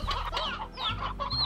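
Chickens in the video game Slime Rancher cluck in quick, close bursts of several clucks each, loud and clear over a low steady hum.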